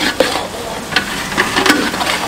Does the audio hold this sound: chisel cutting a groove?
no